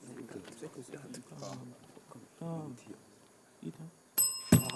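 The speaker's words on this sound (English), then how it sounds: "that bell signifies the end of the match." A bell rings to end a televised school quiz competition match, with a loud, bright metallic ring arriving near the end after a stretch of someone talking.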